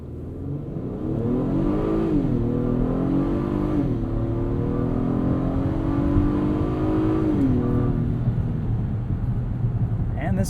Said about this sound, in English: And this V6 still sounds very healthy. Makes good noises.